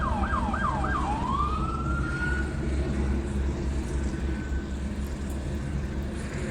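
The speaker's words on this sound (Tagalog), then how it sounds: "Ayun oh, may pulis oh." Police car siren wailing in Los Angeles, a few rising-falling yelps then a long sweeping tone, loud over constant heavy traffic rumble, no talk.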